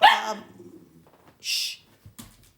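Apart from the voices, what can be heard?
dog barking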